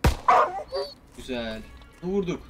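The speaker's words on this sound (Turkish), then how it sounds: "Şimdi gene geliyor bu köpek." An attacking dog in the video game Call of Duty WW2 gives a few sharp yips and barks up close, while someone talks over the game sounds.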